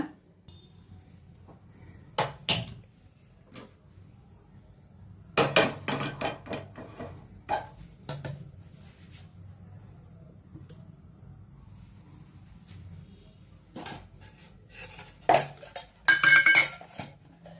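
A pressure cooker set down on a stovetop while mutton keema sambar is being made, giving scattered metallic clanks and knocks of pots and utensils, some sharp and close, spread over a quiet kitchen background.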